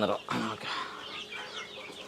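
Turkeys and fancy hens at a breeding farm give a few clucks and gobbling calls close by, partly mixed with a voice talking.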